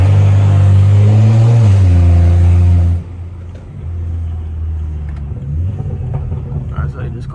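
A straight-piped BMW 335i E92 with the N55 engine drones loudly and deeply while driving, then eases to a lower rumble as it slows. A voice talks over it.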